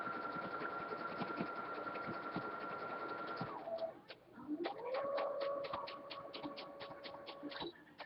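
A CS 6000i sewing machine run by hand control back stitches: a steady motor whir with needle ticking pauses near the middle, then restarts at a lower pitch with quick, regular clicks, close and clear with no talk.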